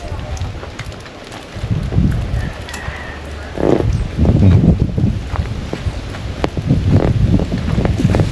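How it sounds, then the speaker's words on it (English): Gusty wind roars and buffets the microphone in uneven bursts in rural St. Thomas, Jamaica, with rain-like hiss and low rumbling throughout, loud and close. "It's really windy, guys."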